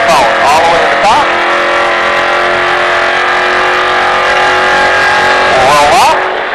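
A NASCAR race car engine roars at full throttle on a Las Vegas track, a loud, steady, high-pitched drone with rising revs near the start and end.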